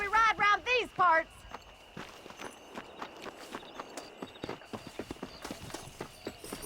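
Horse hooves clip-clop in a steady walking rhythm while riding in Red Dead Redemption 2, close and moderately loud, with a brief burst of voices at the start.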